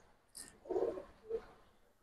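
Silver and beji pigeons coo softly twice, one longer rounded coo followed by a shorter one, both faint and close, with no one speaking.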